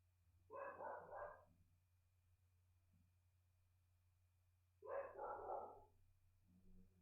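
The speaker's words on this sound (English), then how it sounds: "That might be why that barking is happening." A dog barks in the background during a Persona 4 Golden play session: two short bursts of several barks a few seconds apart, faint and distant over a steady low hum.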